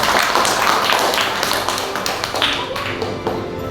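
A fourth-grade class applauds after a group's score is announced, a burst of close, fairly loud hand claps from many children that thins gradually toward the end.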